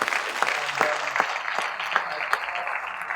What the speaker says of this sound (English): let's give the team a round of applause